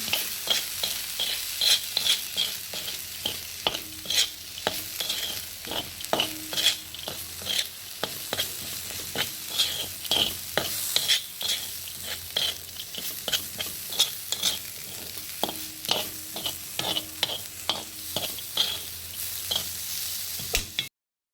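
A spoon stirs peanut powder into coarsely ground spicy peanut chutney, making steady, rhythmic scraping and mixing strokes close up, with no voices.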